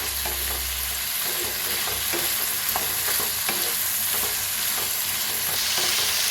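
Hot oil sizzles and crackles steadily with sharp little pops as cumin seeds fry for tempering, while a spoon scrapes and stirs the pan.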